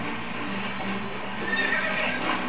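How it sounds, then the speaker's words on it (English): Epona the horse neighing in the Zelda Twilight Princess video game, a clear drawn-out whinny over steady game background sound with faint hoofbeats. "she'll do the little neighing, and then she'll run another place"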